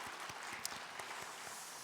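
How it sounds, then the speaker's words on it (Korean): A church congregation applauds together at a New Year revival service, a steady dense wash of many hands clapping that carries evenly from start to finish, with no voices standing out. "우리 다시 한번 하나님께 감사와 영광의 박수 올려드리겠습니다."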